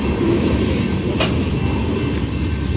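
A Herzog CSX freight train rolls steadily past close by, its cars giving a loud continuous low rumble with rattling, and a brief metallic squeal in the middle.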